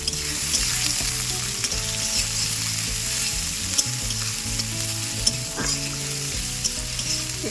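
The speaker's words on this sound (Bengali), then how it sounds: "দেবো পেঁয়াজ আর দেবো চারটে কাঁচা লঙ্কা" Onion and green chillies fry in a hot pan, a loud continuous sizzle with stirring clatter throughout and no talking.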